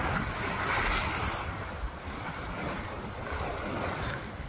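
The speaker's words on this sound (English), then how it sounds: "Pretty windy." Strong wind roaring steadily on an ocean granite breakwater at night, with waves and surf washing below, a broad continuous rush outdoors without speech.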